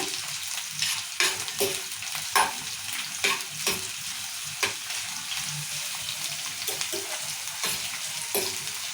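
Sliced onions and chillies sizzling in an oil pan for a Telugu ivy gourd and moong dal curry, a steady hiss broken by repeated sharp scrapes of a spoon stirring, close and alone.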